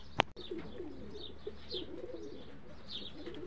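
Racing pigeons softly cooing inside their loft, low murmuring calls repeating through the whole stretch with a faint chirp or two and one sharp knock near the start.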